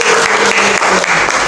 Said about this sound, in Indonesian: tepuk tangan untuk Mbak Dia.